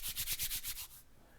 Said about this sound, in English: You rub your hands together in front of you to feel the warmth in the palms.